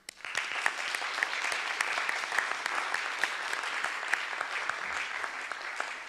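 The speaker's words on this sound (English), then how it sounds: "a warm hand of applause for all of them" Warm, sustained audience applause for sponsors and speakers at a MENOG 25 networking conference, a dense even wash of many hands clapping, loud and continuous throughout.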